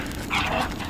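Dogs fighting give a brief, strained yelp or whining bark, loud and close, over a constant rough background rumble.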